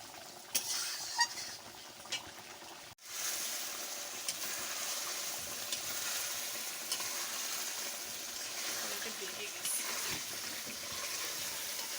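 Meat being sautéed in a kadai with a little added water gives a soft, continuous sizzle with occasional stirring scrapes and a sharp clatter early on, fairly quiet and steady throughout.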